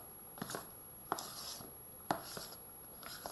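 A spoon folding lemon cheesecake mousse in a bowl gives soft scrapes and light taps roughly once a second, close and quiet, with no talking.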